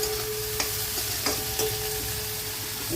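Chopped green onions sizzle steadily in a hot pan for chana dal, with a few soft scraping knocks from a spoon stirring them, close and continuous with no talking.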